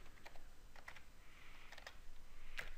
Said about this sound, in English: Terrible bit of typing there.